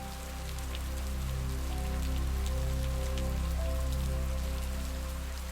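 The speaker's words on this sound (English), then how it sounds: "The rain persisted its steady rhythm, a backdrop to my thoughts." Steady rain falls on a forest cabin in a dense, constant hiss that stays even and loud throughout, with a low droning hum underneath and no voices.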